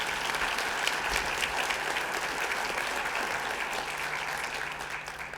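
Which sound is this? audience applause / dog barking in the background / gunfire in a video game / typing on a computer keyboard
audience applause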